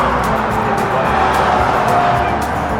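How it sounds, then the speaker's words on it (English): Cars sit in backed-up traffic during the Hot Rod Power Tour, a steady, close rumble of idling and creeping engines filling the air without a break. "All right, Tim, we're stuck in traffic"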